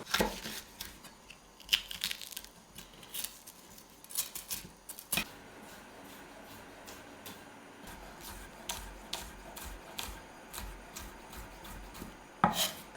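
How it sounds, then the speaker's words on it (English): A knife cutting and dicing de-seeded chilies on a cutting board, irregular taps and chops, some in quick bursts, close and fairly quiet, with soft rubbing and scraping between strikes. "So I'm going to de-seed and dice 2 chilies."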